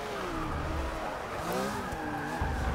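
Porsche race car upgraded to 800 in Forza Motorsport 6, engine droning steadily with shifting pitch and tire squeal through a corner, continuous and fairly loud with no talk.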